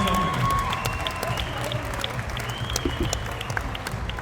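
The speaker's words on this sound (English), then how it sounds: "please a round of applause" Boxing crowd at a fight at the Olympia, Liverpool, applauding and cheering after a stoppage in round seven; steady, dense clapping with some crowd noise, moderately loud and continuous throughout.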